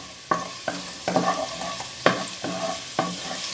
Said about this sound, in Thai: คั่วกระเทียมให้หอมค่ะ